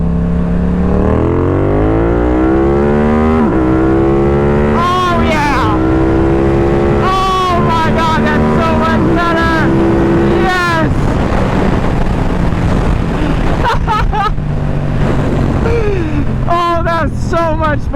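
A Yamaha R7 motorcycle fitted with a new intake and a flashed ECU revs up to redline, with a loud engine tone that rises through the gears and short breaks between pulls, heard close and unbroken for the whole stretch.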